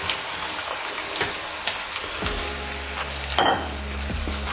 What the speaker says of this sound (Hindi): जब तक हमारा चिकन फ्राई हो रहा है